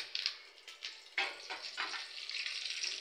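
Chana dal, urad dal, dried red chillies and curry leaves hit hot oil in a pan and sizzle, with soft crackling bursts that settle into a steady frying hiss.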